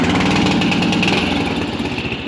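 A Murray 12.5 hp ride-on lawn mower engine running loud and close, a steady rattling mechanical drone that eases slightly toward the end.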